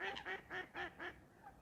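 Ducks quacking on a pond shared with a pair of swans, a run of about five loud, nasal quacks in quick succession close by, with a softer call trailing off at the end.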